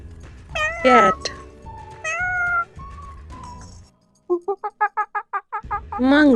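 A cat meows repeatedly, first several drawn-out cries, then a rapid string of about ten short mews, finishing with a louder wailing meow, close and clear.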